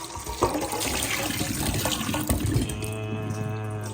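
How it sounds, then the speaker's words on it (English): Tap water runs into and over a cat's water bowl being rinsed in a sink, a steady close splashing stream that shifts in tone as the bowl fills. "This is dirty. Put it in there. Give it a quick rinse."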